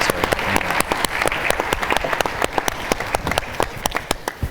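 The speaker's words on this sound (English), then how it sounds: "Let's give them another round of applause." Audience applause at a city presentation for a youth council, dense steady clapping from many hands filling the room, close and sustained without talk.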